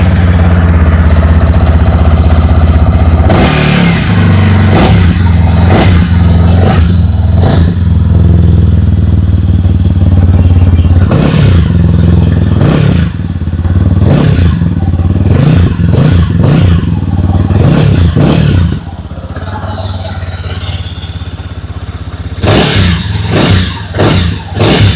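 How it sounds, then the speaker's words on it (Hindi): A TVS Apache RTR 200 4V motorcycle fitted with USD suspension idles loudly up close, then its exhaust barks through a string of sharp revs, several quick blips in bursts with a steady idle between them and no talk. "फास्ट में सुन लेते हैं 204V की एग्जॉस्ट नोट।"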